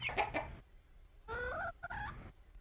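Cornish cross chickens eating and clucking nearby, two short bursts of clucks separated by a brief quiet gap.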